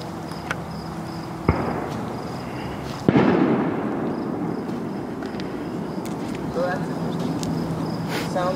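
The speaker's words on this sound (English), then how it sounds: "Fort William Henry is doing one of their last cannon fires for the night" Cannon fire at Fort William Henry on Lake George at night, heard as a sharp distant crack followed by a louder boom that rolls and echoes away over steady background noise.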